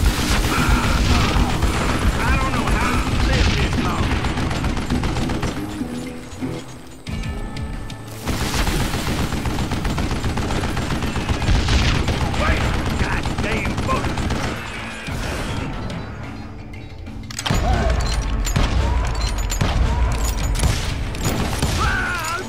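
Gunfire in the video game Call of Juarez: Gunslinger, loud sustained volleys of shots and booms with mechanical clatter, broken by a couple of brief lulls, with a voice speaking amid the shooting.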